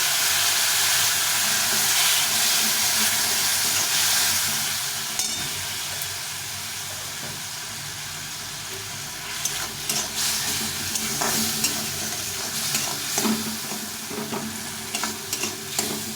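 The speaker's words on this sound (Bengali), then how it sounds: "এভাবে ভালো করে সবগুলো কষিয়ে নিতে হবে" Bottle gourd and fish head sautéing in a pan with chili powder and a splash of gourd cooking water: a loud, hissing sizzle at first, then a quieter fry broken by repeated spatula scrapes and clicks, with no talk.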